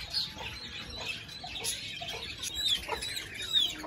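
Hens cluck restlessly in a backyard poultry cage after rain, with soft, scattered calls and a couple of sharper squawks at close range, no talking.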